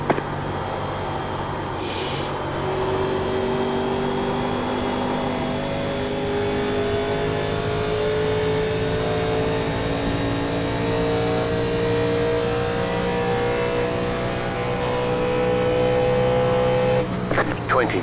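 Replica 1987 NASCAR Legends stock cars race at Indianapolis in iRacing, a loud continuous engine drone with rising and falling pitch as cars run close together, over a commentator's voice.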